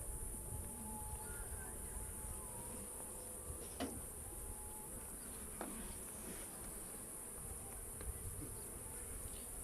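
Honeybees drone in a steady, dense buzz throughout a beehive inspection, with a few sharp clicks from handling the hive and no voices.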